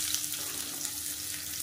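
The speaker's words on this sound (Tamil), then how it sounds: "இப்போ இதல பொடியா கட் பண்ண வெங்காயம் சேர்த்துக்கலாம்" Finely chopped onions frying in a pan with curry leaves, a continuous bright sizzle and crackle, close and steady, with no talking.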